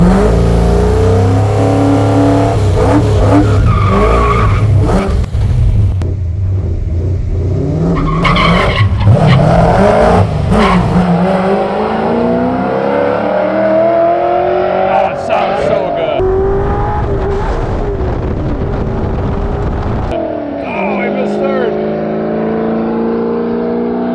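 A Ford Fairlane drag car, revived after sitting dead for 40 years, launches down a drag strip with loud, close engine revving and roaring, tire squeal, and the roar rising and shifting as it pulls away.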